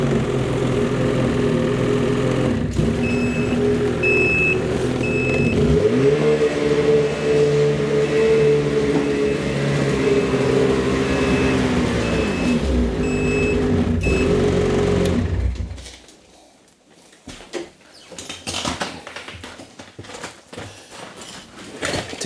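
A snowmobile engine runs loud and steady for about fifteen seconds, its pitch shifting as the machine is driven back up into a trailer, then cuts to quieter clatter and handling noise.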